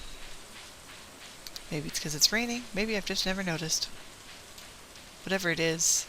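Steady soft rain patters in a rainy spring day in the video game Stardew Valley, a faint continuous hiss beneath someone talking.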